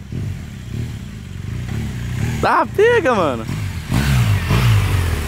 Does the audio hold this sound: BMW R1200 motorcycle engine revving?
yes